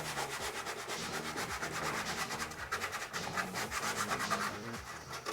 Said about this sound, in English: Rubbing it into place, just like it's a transfer.